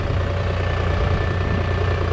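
A New Holland T580B tractor engine runs steadily at close range during leveling-blade work, its low, even diesel rumble continuous and alone.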